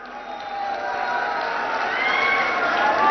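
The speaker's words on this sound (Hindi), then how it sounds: "अभी ताली मत बजाओ," A large crowd at an outdoor political rally in Amethi cheers and claps, a broad noisy swell that grows slightly louder, with some voices in it.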